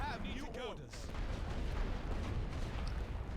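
Artillery fire booms and rumbles in the World War I strategy game The Great War: Western Front, with a dense low roar of shelling that builds through the clip beneath a brief, faint voice early on.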